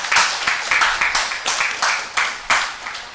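An audience at a medical workshop claps together in a rhythmic burst, each clap sharp and close, settling into a steady beat of roughly three claps per second that continues without pause.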